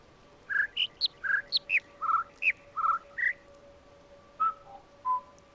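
Birds chirping in the Minecraft video game, a run of clear whistled tweets in quick succession, then a few sparser calls over a faint steady hum.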